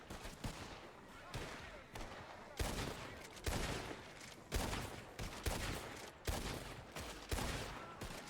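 Video game gunfire, a series of loud bursts of automatic shooting in rapid succession, each burst sharp and dense, repeating at short intervals, with little talk over it.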